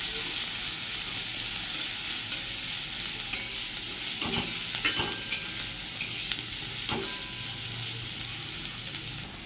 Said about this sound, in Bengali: এরপরে পেঁয়াজগুলো দিয়ে দেব পেঁয়াজ এরপরে একটু ভালো করে নাড়াচাড়া করে নেব